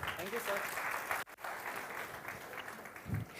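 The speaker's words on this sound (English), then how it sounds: "Give them a good clap." Audience clapping at a school science show, steady applause filling the room with a brief dropout midway and some voices mixed in.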